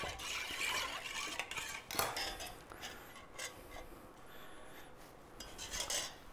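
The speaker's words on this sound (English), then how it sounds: "Just going to give that a quick stir just to get that cinnamon and the alcohol combined" A spoon stirs cinnamon into alcohol in a bowl, making quiet, continuous scraping and rubbing strokes with occasional light clinks against the sides.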